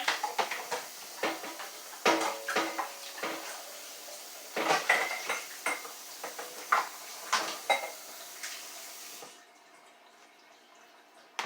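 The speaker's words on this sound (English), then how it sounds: "I'm going to give this bowl a quick rinse." A mixing bowl is rinsed at a kitchen sink, with sharp clanks and clatters of dishes and utensils landing in quick, irregular bursts over running water, ending in a quieter stretch of faint dripping.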